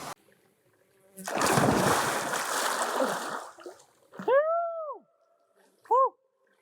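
A person plunges into a cold mountain lake in Idaho's Sawtooth Mountains: a loud, close splash and churning water for about two seconds, then quiet, followed by two short vocal yelps.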